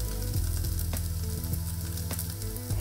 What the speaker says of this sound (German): Das Crepe bei mittlerer Hitze so lange backen, bis sie sich vom Pfannenboden löst.